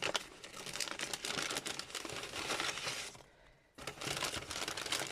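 Close, continuous crinkling and rustling of a rattly plastic bag being handled, with a brief lull partway through before the crackling resumes; no one speaks.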